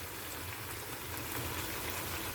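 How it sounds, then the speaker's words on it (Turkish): Eggplant slices fry in hot oil in a pan, making a faint, steady hissing sizzle with fine crackling and no voices. "Şimdi bunları güzelce kızartıyorum hepsini."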